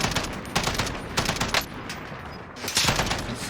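Burst-fire FAL rifle shots in the Call of Duty: Warzone shooter, loud, close bursts repeating in quick groups with brief pauses between them over steady background noise.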